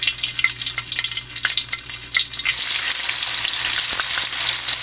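Tofu pieces frying in hot cooking oil, a dense continuous sizzle that swells louder partway through, with faint scraping and clinks; no voices.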